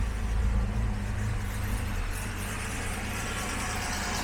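A classic Jaguar XJ6 engine idling around 1100 RPM, a steady low rumble that stays even and continuous throughout, with no talk over it.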